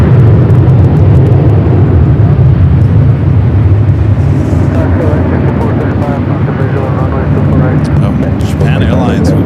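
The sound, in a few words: United Boeing 757 airliner taxiing for takeoff at LAX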